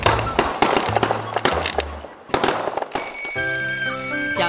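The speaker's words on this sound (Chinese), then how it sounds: "家家户户放鞭炮" Chinese New Year firecrackers going off in rapid irregular bursts of sharp cracks and pops, loud and close, followed by a cheerful ringing, chiming musical tune.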